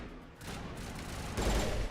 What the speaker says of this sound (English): Stop shooting that shit.